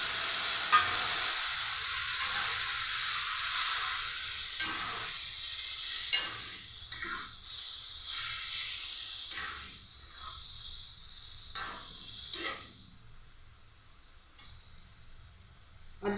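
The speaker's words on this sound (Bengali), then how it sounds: "এখন দিয়ে দেব টমেটো কুচি, আর মশলার বাটিটা দিয়ে সামান্য জল দিয়ে দেব" Chopped tomato, spices and a little water go into a hot pan of oil for a Bengali drumstick and coconut curry, giving a loud steady sizzle and hiss with occasional stirring clatter that fades toward the end.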